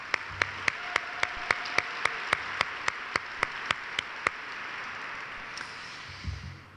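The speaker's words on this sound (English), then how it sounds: "Let's give her a round of applause." Audience applause after a speech at a HUD government event, a broad wash of clapping with one close, loud pair of hands beating a steady, even rhythm over it before it thins out and fades.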